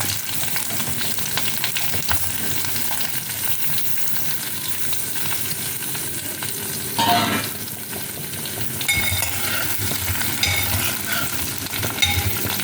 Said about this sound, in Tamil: பச்சை மிளகா, இந்த சின்ன வெங்காயம், முள்ளங்கி, கருவேப்பிலை எல்லாத்தையும் மிக்ஸ்.